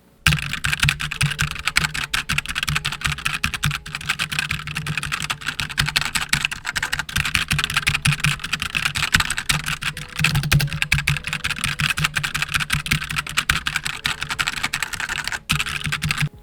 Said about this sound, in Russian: для сравнения возьму свою старую китайскую механическую клавиатуру и проверим звук